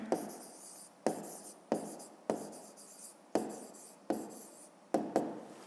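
A pen writing on paper during a fifth-grade math exercise, close scratchy strokes in about eight distinct bursts, each starting sharply and trailing off, with no voice over them.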